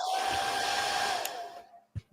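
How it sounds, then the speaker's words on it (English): A small, cheap dollar-store hair dryer blows with a steady, whiny roar, then switches off, leaving a couple of soft thumps. "I have been using a very cheap dollar store hair dryer as a personal heating"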